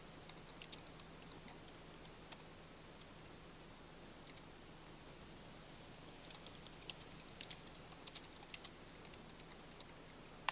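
Quiet typing on a computer keyboard, scattered soft key clicks in short bursts over a faint steady hum, no voices.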